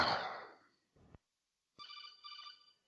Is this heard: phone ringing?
yes